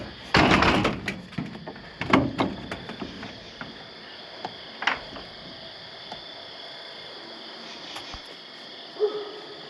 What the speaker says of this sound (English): Let me close the shed doors so we can get the full effect here.